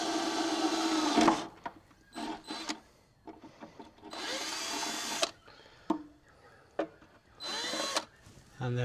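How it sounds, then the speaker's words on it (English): An electric drill whines in several short bursts while boring small holes in a boat for LED lights, with quieter clicks and handling noises between bursts. "Obviously I'll need to drill a pilot hole for this."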